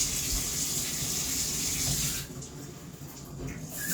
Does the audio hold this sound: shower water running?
yes